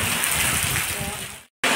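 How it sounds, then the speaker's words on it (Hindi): Heavy rain pours down in a steady broadband wash during a sudden downpour, loud and close, cut by a brief silent gap near the end before it resumes. "तो इतनी तेज़ बारिश हो रही"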